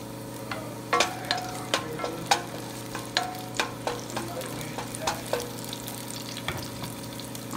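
Onions sauté in a hot pan with a steady sizzle. A utensil scrapes and taps the pan in a fairly regular rhythm, close and clear, with no talking.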